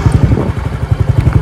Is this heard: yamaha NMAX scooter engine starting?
yes